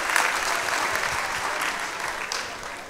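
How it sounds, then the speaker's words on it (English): A church audience at a pastor's sermon claps in a sustained burst of applause, fairly close and even, tapering slightly toward the end. "We have to clap for him."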